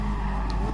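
A race car in GT Sport brakes hard, its tires skidding in a brief, steady screech over the engine drone.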